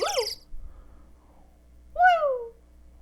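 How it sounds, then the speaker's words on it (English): A bird hooting outdoors, two clear owl-like calls, one at the start and a longer descending hoot about two seconds later, with quiet between them. "There's a bird outside that went, woo!"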